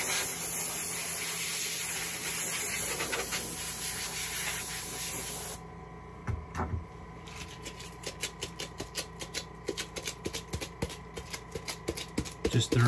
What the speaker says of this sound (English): Sometimes I'll just take one of my airbrush guns and just blow the air.